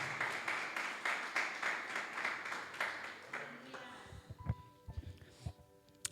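A church congregation claps together during a worship service, starting as dense, fairly loud rhythmic applause that fades after about four seconds into scattered claps and thumps with faint voices beneath.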